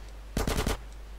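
A rapid automatic burst of about four gunshots in the video game GTA San Andreas The Definitive Edition, loud and close, with quiet before and after.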